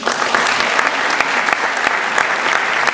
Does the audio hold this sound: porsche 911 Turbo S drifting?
no